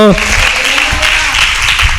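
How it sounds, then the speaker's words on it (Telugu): A church congregation claps loudly and thickly in praise, a dense burst of applause that fills the room right after a voice is cut off at the start. "గట్టిగా చప్పట్లు కొడుతూ యేసయ్యకి మహిమ చెల్లిద్దామా?"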